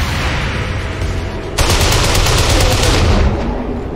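Loud automatic gunfire from XCOM 2: War of the Chosen, with a steady rattling burst of rapid shots that cuts in sharply partway through over constant background game noise.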